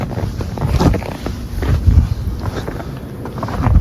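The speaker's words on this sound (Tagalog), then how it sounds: "Lakas ang hangin." Strong wind roaring in gusts against the microphone during a snowstorm in Canada, a dense continuous rush that swells and eases over a few seconds.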